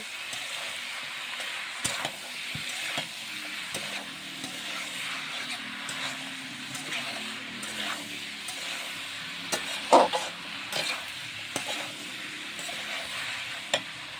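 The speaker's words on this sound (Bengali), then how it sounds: "আর দিয়ে দেবো আলু কুচি, দিয়ে ভালোভাবে নাড়াচাড়া করে মাখিয়ে" Small fish frying with green mango and chopped potato in a pan, stirred steadily for a long stretch under a constant sizzle, with scraping strokes, occasional sharp clinks of the utensil and no talking.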